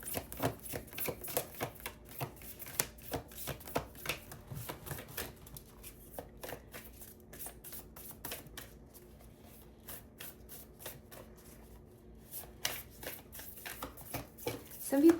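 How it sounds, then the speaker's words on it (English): Oracle cards are shuffled in quick rapid riffles and flicks, loud and close, with a brief quieter pause partway through. "Some people don't like live shuffling"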